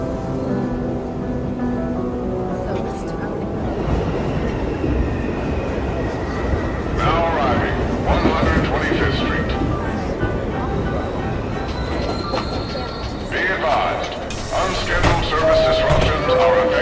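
Train ride in the video game Spider-Man: Miles Morales, a steady rumbling rolling drone with clacking and metallic screeches, continuous and fairly loud, with game music and a voice talking over it.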